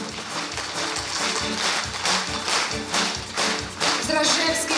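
Applause from an audience at a community ceremony in Trostianets marking Armed Forces of Ukraine Day and Volunteer Day, sounding as steady, dense clapping with sharp taps, moderately loud throughout with no talk.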